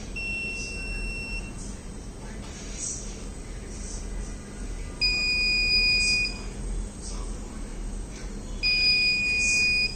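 A PIR motion sensor on a Wi-Fi controlled robot gives repeated electronic buzzer beeps in short bursts over a steady background hum, with louder beep tones toward the middle and end.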